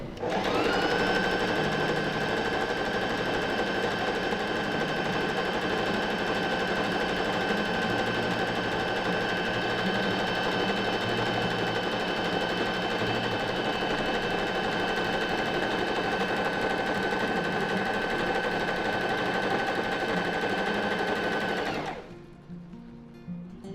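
A PFAFF Smarter 140 S sewing machine runs a straight stitch at zigzag width zero, humming and whirring in a steady, fast, continuous buzz for about twenty seconds before stopping abruptly.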